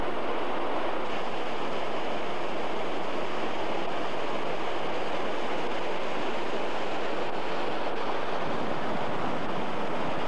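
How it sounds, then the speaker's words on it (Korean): A winter valley stream near the Korean demilitarized zone rushes over waterfalls and rapids, a loud, unbroken broadband roar of churning water that stays steady throughout with no voices. "계곡 옆은 폭포와 급류가 간간히 소를 이루며 북으로 흐르고 있습니다"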